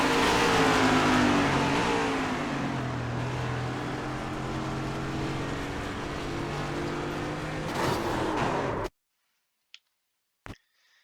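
Race car engines roar in the iRacing sim at Texas, a loud sustained drone with shifting pitch that stops abruptly, followed by near silence with two faint clicks.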